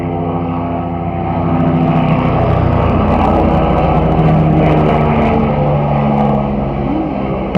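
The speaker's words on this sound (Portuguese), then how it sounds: "passou, né, o helicóptero." A helicopter passes overhead, a loud, steady rotor and engine drone that swells and holds for several seconds in a broad, continuous roar without speech.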